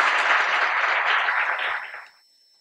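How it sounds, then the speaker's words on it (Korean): An audience at a university research concert applauds a welcome, a full, even burst of many people clapping that fades out after about two seconds, leaving silence. "박수로 맞아주십시오."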